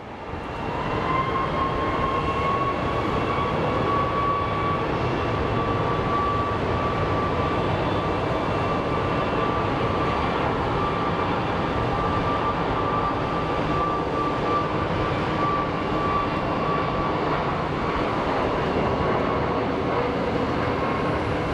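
A Boeing 737 MAX at Sky Harbor airport gives a loud, continuous jet roar with a steady whine above it, constant and unbroken for the whole stretch.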